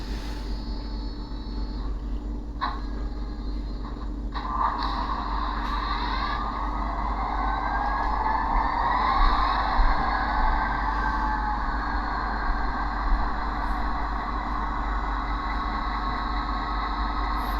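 A model train set's HHP-8 and NJ Transit F40PH locomotives produce a sound-module engine rumble: a steady low hum with brief clicks early on, then a rising whine that swells and settles into continuous droning, close and moderately loud.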